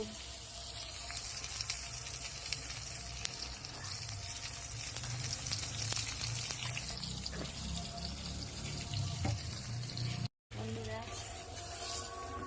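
Continuous hissing sizzle of eggplant frying in a pan on a stove, steady and close, with faint voices now and then in the background.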